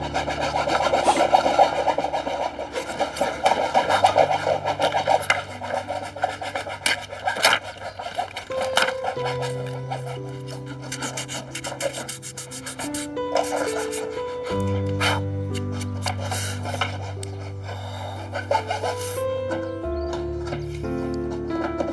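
A hand saw rasps through wood in steady, repeated strokes under sustained background music.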